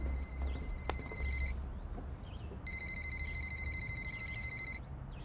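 A phone rings in two electronic bursts with a pause between, over a low background hum; no one speaks.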